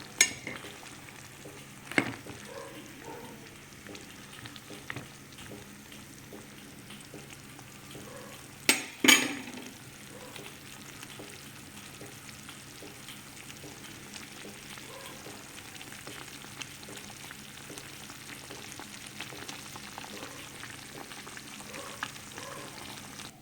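Mushroom curry with black masala fries in a pan, a low steady sizzle running throughout, with a few sharp clinks and scrapes of a stirring spoon near the start and around the middle.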